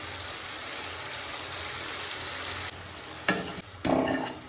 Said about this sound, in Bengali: আমার ভাজা হয়ে গেছে আমি সসটাও ঢেলে দিলাম